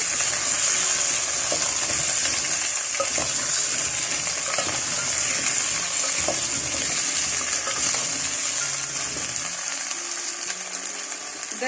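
Steady loud sizzling of potatoes frying in a pan, with occasional scraping and clinking as they are stirred; no talking.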